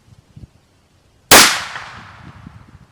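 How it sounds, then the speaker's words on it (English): A sharp, loud metallic crack from a Marlin XT-17VR bolt-action rifle at the range, a single sudden burst that rings and decays over about a second, with faint low murmurs before it. "You have slid the bolt, racked the bolt."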